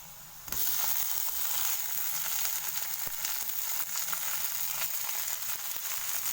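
Chopped tomato and green chilli hit a hot pan and burst into a loud, dense sizzle that starts abruptly and keeps up a steady crackling hiss, close and uninterrupted.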